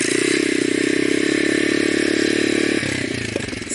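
A motorcycle engine drones loud and close at steady revs while the rider pops the clutch for a wheelie, a buzzing note that shifts and drops near the end amid light rattling.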